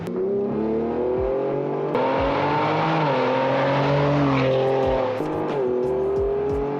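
A Stage 4 tuned Ford Explorer ST accelerates hard, its loud engine note climbing steadily and dropping briefly at each gear change before pulling again, heard up close with no talking.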